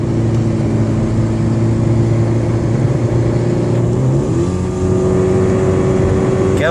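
A car drives along a road and its engine revs up as it accelerates, a steady loud hum rising in pitch partway through with no voices over it.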